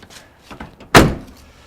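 A 1983 Plymouth car door swings shut with one solid, close thunk, preceded by faint shuffling and handling noises, then a short fading ring.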